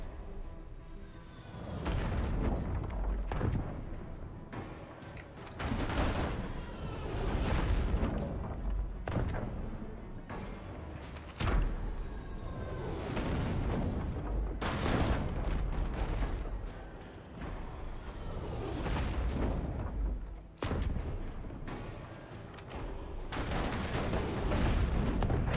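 Ship cannons fire in repeated heavy booms and rumbling blasts during a naval battle in the video game Abandon Ship, with volleys spaced irregularly over a constant loud background.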